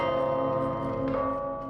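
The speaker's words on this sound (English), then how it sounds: "watch the bells" Resonant, sustained bell tones ring in the game DarQ, forming a steady harmonic drone with a brighter strike near the middle, holding at an even loudness with no talk over it.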